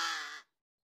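A single harsh caw from a large crow, loud and close, ending abruptly in silence.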